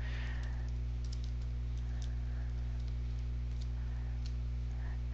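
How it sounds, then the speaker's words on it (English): Faint keystrokes on a computer keyboard tap out scattered, irregular clicks over a loud, steady electrical hum, with no voices heard. "when I type in one of my commandlets, I want to be able to use a wildcard"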